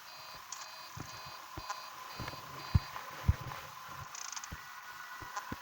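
Electronic alarm beeps from the video game Five Nights at Freddy's 3 repeat in short evenly spaced bursts over a low background hum, with scattered soft thuds and taps underneath.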